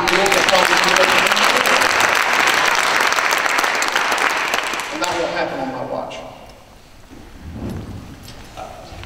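Loud audience applause fills a Georgia Secretary of State Republican candidates' debate hall, dense and sustained for several seconds before thinning out and fading near the end.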